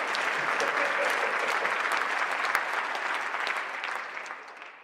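An audience claps through the Atlanta mayor's 2026 State of the City address, a steady, dense wash of applause that holds evenly and fades slightly toward the end.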